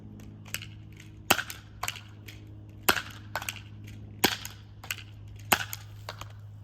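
A Nerf foam-dart blaster fires its last four darts, each shot a sharp, close snap followed by fainter mechanical clicks and clatter from priming, spaced about a second apart over a low background hum.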